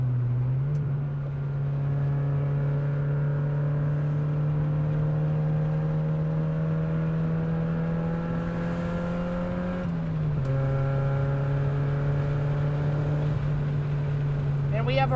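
A Mazda NA Miata with a 5-speed gearbox drives along with its engine droning steadily and loudly close by; the pitch climbs gradually, then drops briefly at a shift before settling again.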